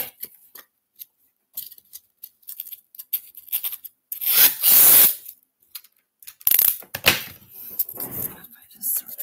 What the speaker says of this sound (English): Cut a little bit of this little foam piece.